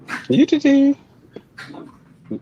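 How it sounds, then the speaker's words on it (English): Two dogs play rough indoors, close and loud with short growling and whining bursts, then quieter snuffling and a final brief growl. "It sounds like I'm running a dogfighting ring in the background"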